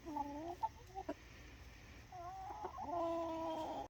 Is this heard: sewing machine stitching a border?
no